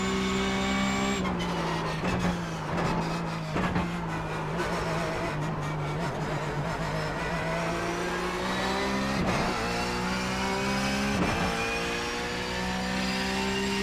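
Porsche 911 GT3 Cup racing car engine in iRacing, revving and shifting through gears continuously, with rising and falling whine and brief tire squeals, loud and up close.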